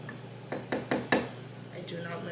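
Spatula or spoon folding egg whites into sponge cake batter for a tres leches cake, heard as four soft knocking scrapes against a bowl in quick succession, followed by a faint swish, quiet and close.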